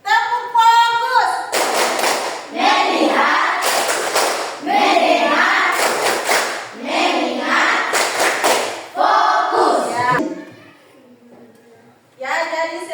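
Schoolchildren perform a focus clap routine, several loud bursts of group clapping alternating with chanted voices, then a brief quiet gap before voices return.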